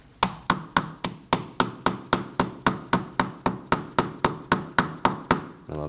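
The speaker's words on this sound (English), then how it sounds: "And I'll just tap that with my dead blow hammer until that's fully seated." A dead blow hammer taps a front wheel hub seal into place on a 2003-2006 Subaru Baja, about twenty sharp, evenly spaced blows repeating steadily and loudly with nothing else heard.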